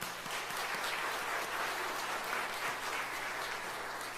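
Steady applause from a church congregation honoring a newly installed elder emeritus at a Korean holiness church ceremony, continuous and full throughout without pause.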